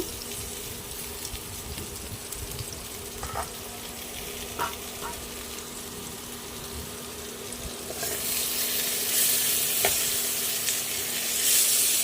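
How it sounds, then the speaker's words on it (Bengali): Rohu fish curry with potatoes bubbles and sizzles in an uncovered pan, with light stirring knocks; the frying hiss swells louder and brighter in the last few seconds. "ঢাকা খুলে একবার নাড়িয়ে নেব"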